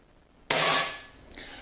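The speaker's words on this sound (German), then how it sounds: "dann schiebt man einfach das Magazin hier wieder zurück in die Pistole, schließt den Repetierhebel" A Reximex RP air pistol's magazine slides back in and its cocking lever snaps shut, giving one sharp, close metallic click followed by a fainter second click a moment later.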